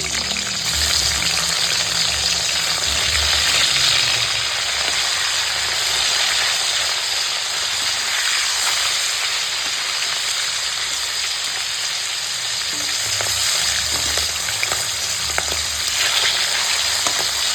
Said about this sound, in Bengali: তেল গরম হয়ে গেছে দিয়ে আমি এখন মাছগুলোকে ছেড়ে দিলাম